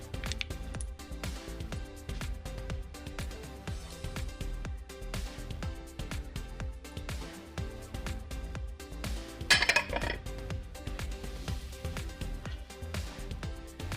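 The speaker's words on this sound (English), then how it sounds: "And give it a good stir." A spatula works a rhubarb crumble mixture of butter, baking soda and salt in a bowl, giving quiet repeated scraping and clinking strokes throughout, with one louder clatter near the end.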